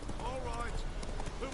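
A ghost horse's hooves clip-clop in the fantasy game The Witcher 3, a steady patter of soft hoofbeats blended with dense game ambience across a brief moment.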